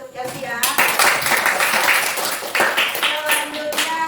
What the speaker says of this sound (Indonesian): Tepuk tangan untuk Chelsea ya.